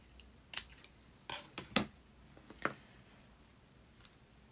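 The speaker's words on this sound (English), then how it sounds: "I'm just going to overlap them and then cut the excess off with the knife" A craft knife trims an excess overlapping strip on a model French chateau roof, making a handful of short, sharp snipping and scraping clicks close up in a quiet room.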